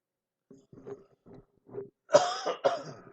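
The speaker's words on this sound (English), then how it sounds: "These coughs are getting me." A pair of harsh, close coughs after a few softer throat-clearing sounds, the last two bursts loud and raspy.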